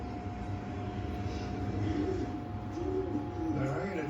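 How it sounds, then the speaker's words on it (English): Young pigeons in a loft coo softly near their feeders, low rolling calls building toward the end over a steady background hum. "I just called all the young birds in and I had food in their feeders already"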